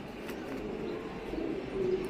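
Racing pigeons at a farm coo softly, a low, throaty murmur of coos with a faint chirp mixed in, heard close but quiet over a light background hiss.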